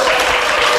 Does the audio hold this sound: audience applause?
yes